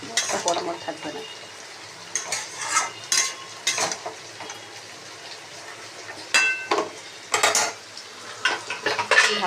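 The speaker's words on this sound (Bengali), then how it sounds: "দিয়ে ভালো করে নাড়াচাড়া করে দিচ্ছি, তাহলে এর সাথে মিশে যাবে বড়াগুলো" Fritters being stirred into a pumpkin-vine-tip vegetable curry in a pan: intermittent scraping and clinking of a utensil against the pan over a soft background sizzle, close and irregular.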